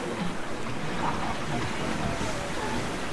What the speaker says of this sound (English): The noise you hear now is recorded from inside the boat after I'd finished my watch.